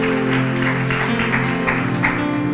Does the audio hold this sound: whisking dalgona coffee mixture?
no